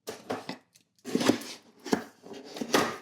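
Several sharp cutting and tearing strokes in quick bursts, close up, like a blade slicing through tape and cardboard, with brief pauses between.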